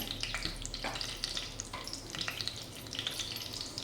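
Cumin and mustard seeds sizzling in hot oil, a dense crackling hiss full of rapid tiny pops and spits, close and continuous throughout.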